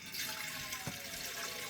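Water from a tap pours steadily into a cooking pot, a continuous faint hiss and splash with no break across the short span.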